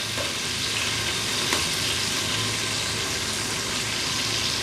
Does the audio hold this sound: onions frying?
yes